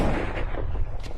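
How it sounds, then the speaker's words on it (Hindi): A loud, booming gunshot blast with a rumbling, noisy tail, heard up close and alone. "गोली चलाओ।"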